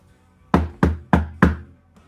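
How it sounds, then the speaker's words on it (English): Four sharp, evenly spaced knocks strike a green room door, loud and close with short ringing decay, then a faint fifth tap follows in an otherwise quiet room. "a knock on the green room door."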